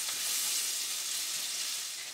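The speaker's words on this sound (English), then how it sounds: "I'm going to continue frying this until it's golden brown." Salt pork fries in a pan for a traditional Newfoundland seafood chowder, making a loud, continuous bright sizzle and hiss with no talking.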